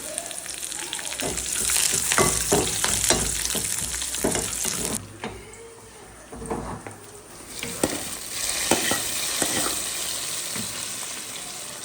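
Curry leaves crackle and sizzle loudly in hot oil for a fish curry, with sharp popping bursts and stirring, steady frying close up, no talk.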